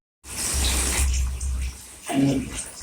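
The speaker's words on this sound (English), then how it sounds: "I am bringing the water. You see. Oh. Water is coming." Water gushing into a container for a children's sink-or-float game, a loud close rushing pour that fills the clip, with a voice briefly heard over it.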